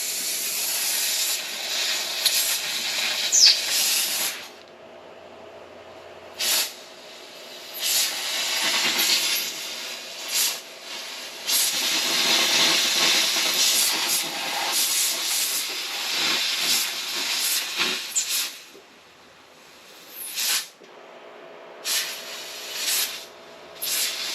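Steam cleaner blasting steam in repeated bursts as its trigger is held, loud hissing jets with short pauses between releases and no talking.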